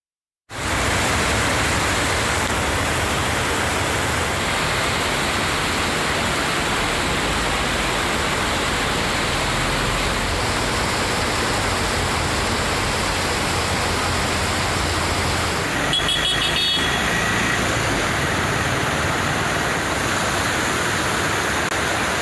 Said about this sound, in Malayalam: സ്പിൽവേ ഷട്ടറുകളിലൂടെ കൂടുതൽ വെള്ളം പുറത്തേക്ക് ഒഴുകി തുടങ്ങിയത്